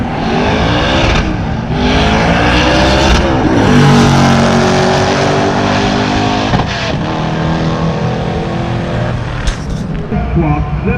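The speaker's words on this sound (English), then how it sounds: "2006 Corvette, our final car in this class." A 2006 twin-turbo Corvette at a street car takeover event roars close by in a sustained, loud, revving run with shifting engine pitch, with crowd and track noise around it and speech-like sounds in the mix.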